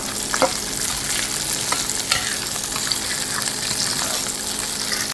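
Onion, garlic and green chilli fry in hot oil in a pan, giving a steady, dense sizzle with a few sharper crackles and light stirring clicks throughout, close and continuous with no talk.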